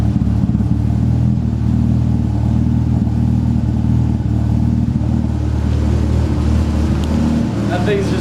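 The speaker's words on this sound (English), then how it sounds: "That is what the GSC 274 cams sound like on the 3S GTE." A Toyota Celica's built 3S-GTE engine with GSC 274 cams, running on E85, drones loud and steady with a lumpy, throbbing idle and mild revs throughout, close by and continuous.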